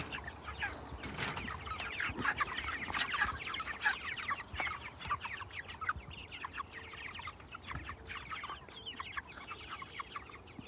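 Many five-week-old hens cluck and chatter together nearby in a pen, a continuous busy murmur of short calls with occasional rustling of wings.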